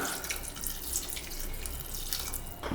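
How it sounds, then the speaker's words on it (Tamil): Water poured into a cooking pot of drumstick sambar after the chilli powder has been sautéed, a steady close splashing rush that runs throughout without any talk. "இனி வந்து தண்ணி ஊற்றிக்கலாங்க. காய் வேகிற அளவுக்கு தண்ணி ஊற்றிக்கலாம்."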